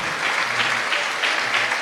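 A congregation applauding during a Sunday church service, a dense, steady wash of many hands clapping together at moderate loudness, with no voices on top.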